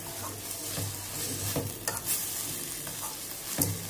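Potato and coconut frying in a pan, a steady close sizzle with repeated stirring scrapes throughout, no voices.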